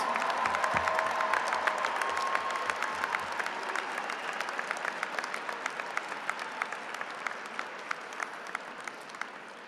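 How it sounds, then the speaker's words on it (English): A commencement crowd at Northern Virginia Community College applauds veterans in 2017, starting full and steady, then thinning to scattered individual claps as it fades. "Please join me in applauding those individuals whose service continues to the United States."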